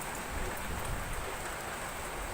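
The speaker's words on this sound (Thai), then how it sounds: "ฝนตกค่ะลาดกำลบังฝนตกอากาศเย็นดีมากเลยค่ะ" Steady rain falling, a dense continuous hiss with a soft patter on surfaces, constant and fairly close, no voices.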